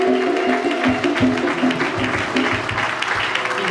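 A church congregation applauds the Lord in a sustained burst of clapping that fills the room, with voices cheering and calling out beneath it.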